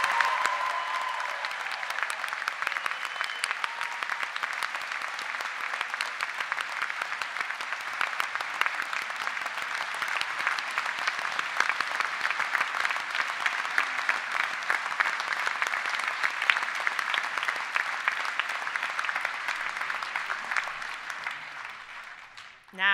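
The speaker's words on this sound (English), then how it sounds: "Please, can I ask you to join me in a big round of applause?" Audience at a University of Salford winter graduation ceremony gives a long round of steady applause. The dense, sustained clapping from a large seated crowd continues for about twenty seconds before tapering off.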